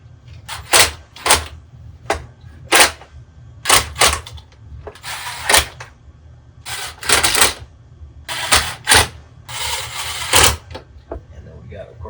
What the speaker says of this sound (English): And we'll put 1 or 2 screws in to get started.